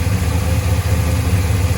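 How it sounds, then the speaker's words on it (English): A 1985 Chevrolet K20 Suburban with an LS engine swap idles close by with a steady, low throbbing rumble, running evenly without revving. "So this is it idling."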